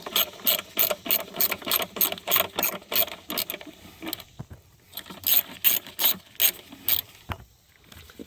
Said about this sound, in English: we got one more 10 millimeter bolt. We'll just secure those.